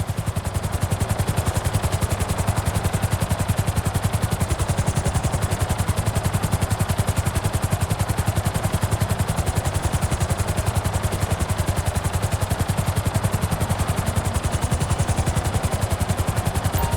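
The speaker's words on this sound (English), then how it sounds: "I need you to hold the chopper above it while I take a look" A helicopter hovers in place in the video game GTA 5, its rotor thumping steadily and loudly for the whole stretch, unbroken and with no voices over it.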